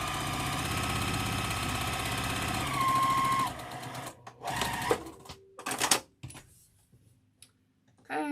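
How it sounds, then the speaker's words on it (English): Home sewing machine stitches a quilt block seam for a Churn Dash pattern with a steady motor hum for about three seconds, then stops, followed by short bursts of stitching and quiet handling noises. "So flip it over and sew it on"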